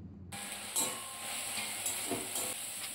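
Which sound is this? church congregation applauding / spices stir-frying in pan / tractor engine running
spices stir-frying in pan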